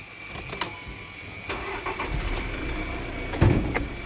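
A 2015 Volkswagen Vento diesel engine cranks and starts with a few sharp knocks, then settles into a low, steady rumble.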